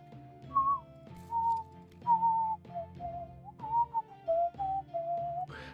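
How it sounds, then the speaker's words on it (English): A person whistles a simple melodic tune, a series of clear sustained notes and short phrases with brief gaps, close and moderately loud over faint background sound. "I don't know how well it's picking up my whistling."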